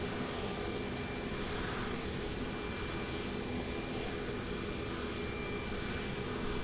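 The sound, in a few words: airplane at Lisbon Airport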